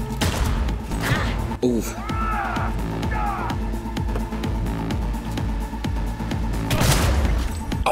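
Gunfire from a companion's gun during a street gig in the video game Cyberpunk 2077, dense bursts and booms filling the mix at steady loudness, with a voice exclaiming briefly over the shooting.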